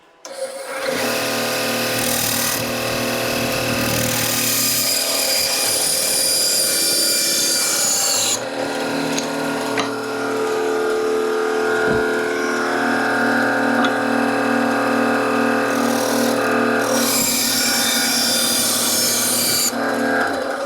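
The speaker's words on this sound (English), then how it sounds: "we're going to just cut these out on my bandsaw here" A workshop bandsaw cuts small wood pieces for an end table, with a steady motor hum under a harsh, rasping cut that runs almost without a break, close and loud.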